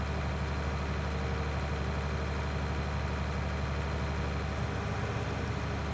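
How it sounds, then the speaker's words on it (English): A slow tractor's engine in a farming video game drones in a low, steady, unbroken rumble, alone and constant throughout. "and this tractor is slow"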